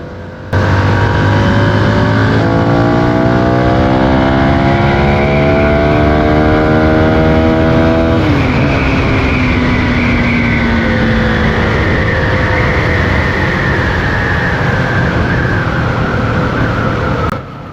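A CFMOTO 250NK motorcycle engine and exhaust while riding, loud and close, its pitch climbing steadily through the gears with a brief drop at a shift, then holding a steady drone; no talk over it.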